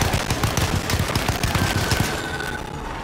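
A Tommy gun in Alone in the Dark (2024) fires rapid bursts, a string of close, punchy shots in quick rhythm for about two seconds. A softer tail lingers after the firing stops.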